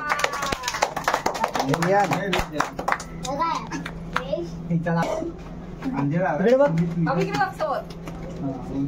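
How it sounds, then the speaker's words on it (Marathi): Children clap in scattered, irregular bursts at a home Ganesh Chaturthi drawing competition, mixed with lively kids' chatter and an adult voice leading the group, close and busy throughout. "टाळ्या वाजवत राहा"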